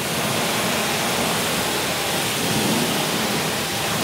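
A hose or pressure washer sprays a heavy, steady stream of water during a car wash, giving a loud, dense, unbroken hiss from start to end.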